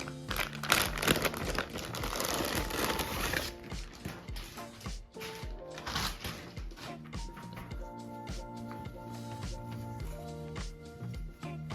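A plastic Nike bag holding a football kit crinkles and rustles up close, loud and busy at first, then lighter handling noises continue.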